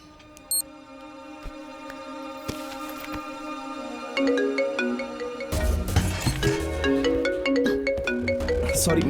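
A mobile phone ringtone plays clearly, a melodic electronic tune with repeating tonal notes that starts softly and grows fuller and louder midway, continuing to the end with no talking.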